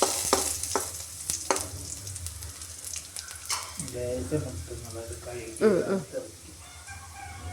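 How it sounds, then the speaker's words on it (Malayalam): Curry leaves fry and crackle in a pan for a kadala curry tempering, stirred with sharp scraping ticks early on. A voice murmurs briefly in the middle over the continuous sizzle. "അപ്പൊ കരിയേപ്പിൻ്റെ ഇല അതെടുത്ത് ഇളക്കി"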